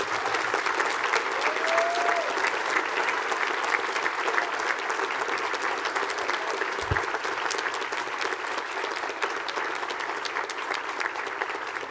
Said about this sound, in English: Let's have one more round of applause, please.